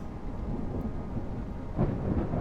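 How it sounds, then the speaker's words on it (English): Heavy rain pours steadily at an outdoor site, a dense, even roar with a brief louder swell near the end, fairly close and with no voices. "The rain is getting heavier each time."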